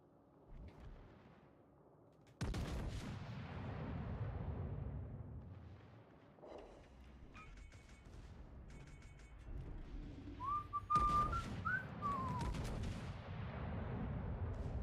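Heavy warship main guns boom in a naval video game, loud deep blasts at intervals with long rumbling decay and rolling low-end noise between shots.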